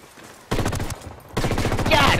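Dense bursts of automatic gunfire rattle through a Ghost Recon Wildlands firefight, a quieter stretch giving way to two loud sustained volleys while a voice talks over the shooting.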